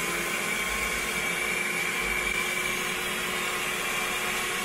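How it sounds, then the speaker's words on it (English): A car vacuum cleaner runs steadily with a constant broadband whine and hiss, uninterrupted and fairly close, with no talking. "Now we try our vacuum cleaner and to test if it can"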